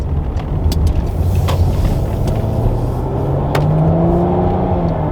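Porsche Macan GTS engine pulling hard in first gear through a tricky turn off a country road, a loud, steady drone whose pitch climbs gradually as revs build, continuous and close with no talking.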